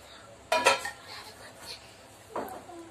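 A metal lid lifted off a cooking pot after long steaming for a mango cake, giving a sharp clattering clink followed by a softer second knock, close and fairly quiet.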